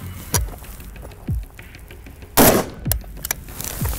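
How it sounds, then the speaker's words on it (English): AK-105 rifle firing 7N6 military ammunition, several separate loud close shots spaced about a second apart, with one harsh broadband blast standing out midway. "This is about as close as you can get to a Russian AK-105 without smuggling weapons or being in the Ukraine. Firing 7N6 military ammunition."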